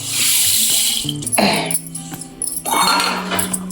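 Water runs and splashes into a bowl to soak moong dal, with a brief pause mid-way and a few faint clinks of dishes.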